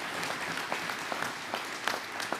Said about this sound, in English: So please give the MLTC a round of applause.